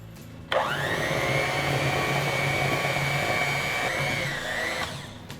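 Electric hand mixer whirring steadily through gingerbread cookie dough, a loud continuous motor drone that starts abruptly, holds an even pitch for several seconds, then cuts off, with no talking.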